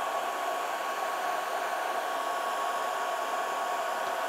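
An IKIER K1 Ultra laser engraver runs with a steady, even whir, a continuous fan-like hiss that holds level throughout with no talking.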